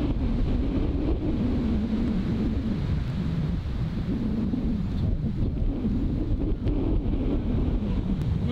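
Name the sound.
sideways wind on a golf course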